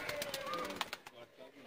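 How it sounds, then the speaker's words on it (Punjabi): A Chawinda pigeon, a flying breed kept on a rooftop loft near Pasrur in Sialkot, coos softly in short throaty phrases close by while someone talks over it. "ਚਵਿੰਡੇ ਵਾਲਾ ਕਬੂਤਰ ਹੈ ਦੋਸਤੋ।"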